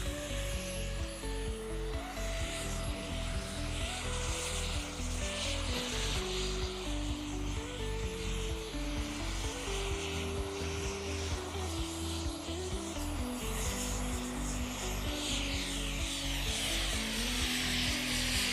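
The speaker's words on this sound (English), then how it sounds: "the Matrix is a fabulous 3D jet, as you can see" A 2.8-meter Matrix 3D model jet hovers during a difficult aerobatic maneuver at a model aircraft show, its turbine whine steady and loud throughout, layered with broadband rushing noise and a high tonal whistle, no talk over it.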